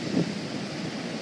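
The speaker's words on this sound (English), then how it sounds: "Oh wow, the wave just came right up on the shore. And big waves coming in." Big surf breaking on Copacabana Beach on a windy day, heard as a steady, dense roar of waves and wind with a slight swell near the start, no voices.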